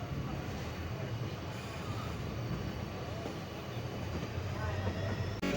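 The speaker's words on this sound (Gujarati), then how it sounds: "હવે ટ્રોવા ટ્રેન આપણી ધીમે ધીમે હાલતી." A train on the Lathi to Sihor line rolls slowly along the tracks, a steady broadband rumble and rattle that continues without a break throughout.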